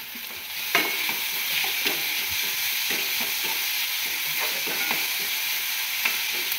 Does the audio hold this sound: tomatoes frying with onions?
yes